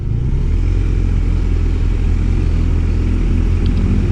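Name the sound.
BMW motorcycle engine accelerating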